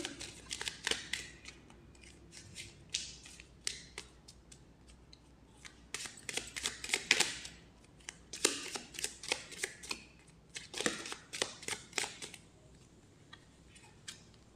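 Tarot cards are shuffled in repeated bursts of crisp riffling and snapping, close and fairly quiet, with short pauses between bursts.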